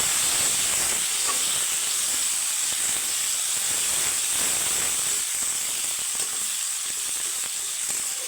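Chopped onions with whole cumin frying in oil until browned for a katla fish curry, a loud, continuous hissing sizzle with faint occasional stirring underneath.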